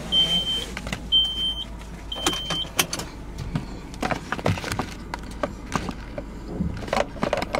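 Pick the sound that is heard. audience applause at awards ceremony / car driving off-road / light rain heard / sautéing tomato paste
car driving off-road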